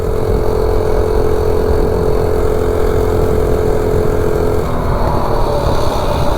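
A minibike powered by a Predator 212 engine climbs a hill, its small single-cylinder motor droning steadily and loud throughout, close by, with the pitch shifting slightly near the end as the load changes.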